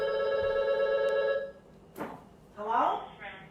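A telephone rings steadily for about a second and a half at moderate level in a home kitchen, followed by people talking.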